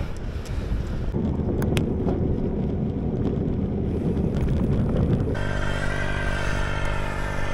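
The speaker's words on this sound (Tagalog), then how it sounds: "Lakas ng hangin." Steady roaring wind buffets the microphone of a cyclist on a ride with a low rumble throughout, and a droning engine-like hum joins in toward the end.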